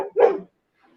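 A single short dog bark sounds close and fairly loud, then quickly fades to near silence.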